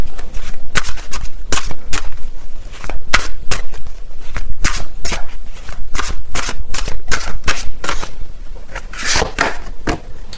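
Tarot cards shuffled steadily in the hands, a loud, close run of crisp riffling snaps and slaps repeating for about ten seconds with no voices.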